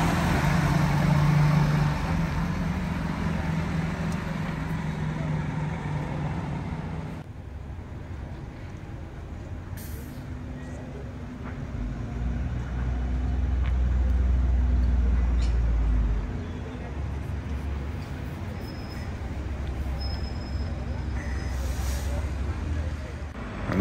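A London bus at Turnpike Lane bus station after dark, a diesel engine idling and pulling away with a low rumble amid station hum, while someone talks over it.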